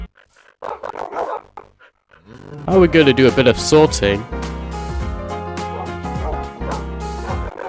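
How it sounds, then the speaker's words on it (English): Dogs bark in Minecraft, a few sharp yips and barks in a short burst amid game music and sound effects, with a voice talking over them at the start. "The first thing I immediately did was introduce the new dogs to everybody else."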